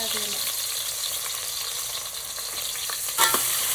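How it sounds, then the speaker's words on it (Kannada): Onions frying in hot oil, salted, sizzle loudly and continuously up close, with faint stirring scrapes and a brief sharper clatter near the end. "ಈರುಳ್ಳಿ ಎಣ್ಣೆ ಚೆನ್ನಾಗಿ ಫ್ರೈ ಆಗಬೇಕು"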